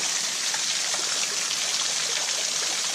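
Constant rushing water, a dense broadband roar of falling water close by, steady throughout with no voices.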